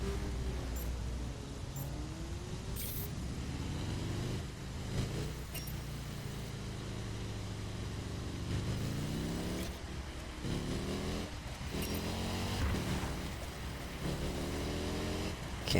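A Scout motorcycle in a video game, ridden through a wheelie challenge, revs continuously with its engine pitch sweeping up and down in repeated climbs, steady and close throughout.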